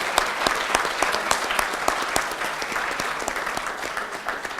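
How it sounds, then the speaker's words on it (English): Applause for an event team at an information management conclave, a lively round of many hands with distinct sharp claps standing out up close, tapering slightly toward the end. "A big round of applause for Team Samavesh and our sponsor for the event, Amazon Eco Dot"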